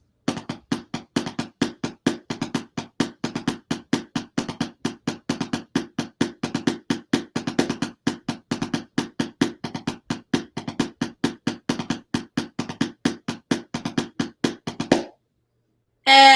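Rapid, even drum strokes repeat in a steady sixteenth-note rudiment with diddles, played alone for about fifteen seconds before stopping abruptly.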